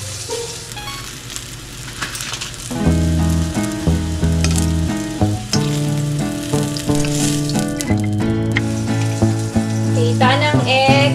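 Eggplant fries in oil with a close, steady sizzle, alone at first; after a few seconds, loud piano music plays over the frying and largely covers it.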